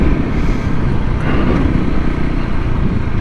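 A small adventure motorcycle engine runs steadily on an off-road trip, a continuous loud, low rumble with no breaks or revving changes.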